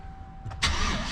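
A pickup truck engine cranks briefly and catches, then settles into a steady, fairly loud idle close by.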